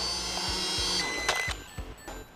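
A small camera drone's propellers whine at a high pitch and then wind down and cut out after a long press on stop, followed by a few light clicks and knocks nearby.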